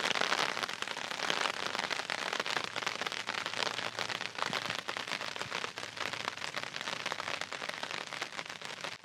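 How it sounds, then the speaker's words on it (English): Steady rain pattering on a tarp during a thunderstorm at a solo fishing campsite, a dense, continuous drumming close overhead with no voices. "There's just something relaxing and peaceful about the sound of the rain on the tarp"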